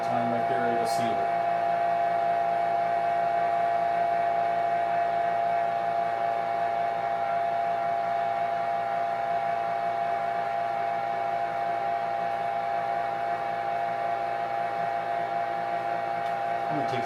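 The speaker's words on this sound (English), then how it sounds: "And right now it's pulling a vacuum on it." An Introvac vacuum sealer pumping air out of a bag holding chicken breast, a steady, continuous motor hum with a constant pitch, running alone at moderate loudness throughout.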